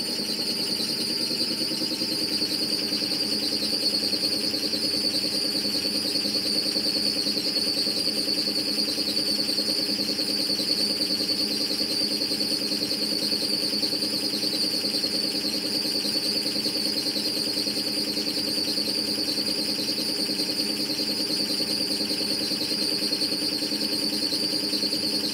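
An air compressor runs steadily after being switched on, giving a constant close hum with a high-pitched whine layered over it, unbroken and even in loudness throughout with no voices.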